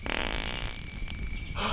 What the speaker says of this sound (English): I can fart!